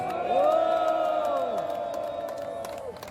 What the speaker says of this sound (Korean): 아펜젤러 합창단에게도 뜨거운 박수와 함성을 보내주시기 바랍니다.